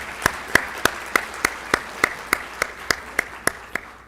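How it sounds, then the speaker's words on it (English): Audience at a seminar on a new income tax bill claps in a sparse, evenly spaced rhythm, with a dozen or so distinct, sharp claps that are clear and moderately close. "A huge round of applause for this, sir."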